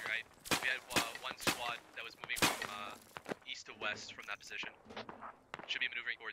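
Rifle fire in the video game Squad, a run of sharp, close single shots in quick succession, then fainter pops, with players talking over the shooting.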